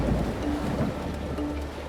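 Heavy tropical storm with rain and rolling thunder, a dense roaring wash of rainfall with a low rumble underneath, loud and continuous.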